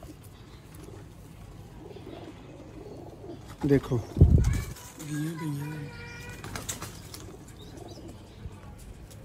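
Sialkoti roof pigeons coo and flap their wings in a short, close burst while someone talks nearby.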